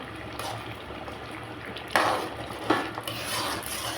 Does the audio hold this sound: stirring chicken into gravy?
yes